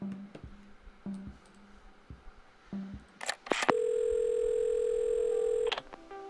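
A telephone in Assemble with Care: a few soft clicks and taps as the phone is handled, then a burst of dialing noise and a loud, steady continuous tone that holds for about two seconds before cutting off.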